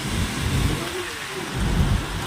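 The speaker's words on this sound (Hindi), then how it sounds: "ये देखो कितनी बारिश हो रही है यहाँ पे ना, ये हालत है।" Heavy rain pours steadily at a roadside stop on the Char Dham pilgrimage route in the mountains, with low rumbles of thunder swelling near the start and again toward the end, dense and loud throughout.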